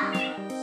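A cartoon cat meows in a Toca Boca cooking video game, a short bright synthetic mew with strong harmonics, repeated twice in quick succession at close, clear level.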